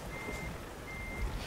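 Reversing beeps from a truck backing up in Euro Truck Simulator 2, a steady electronic tone running continuously over low engine rumble.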